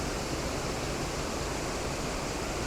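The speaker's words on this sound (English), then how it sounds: "two of the kind of side cascades over on the left hand bottom corner, and then that curtain of water coming down up above" A waterfall with side cascades at the lower left and a broad curtain of water pouring from above, heard as a steady, dense, full-band roar that stays constant throughout with no voices.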